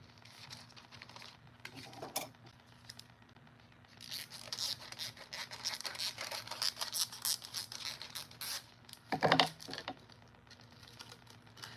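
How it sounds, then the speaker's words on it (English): Scissors cutting a small piece off a sheet of black foil, faint crinkly snips and rustling scratches in short irregular bursts close by, with a sharper crackle near the end. "So I'm going to take some of the black. I'm just going to cut a little piece off."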